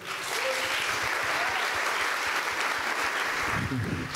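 An audience at the Rencontres d'Astaffort song event breaks into sustained, dense applause, steady and full throughout, with a faint voice briefly heard near the end.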